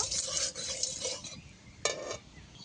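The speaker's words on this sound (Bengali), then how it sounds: "কড়াইতে নাড়িয়ে নেব" Food being stirred with oil in a kadai, a soft scraping and light sizzle with a brief sharper scrape partway through, quiet and close with no talking.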